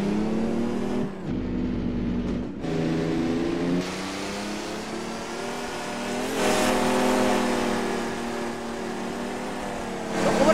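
Chevrolet Kodiak truck engine in American Truck Simulator, struggling on a muddy climb, revs loudly and steadily with brief dips and rises in pitch and a strong surge of throttle near the end.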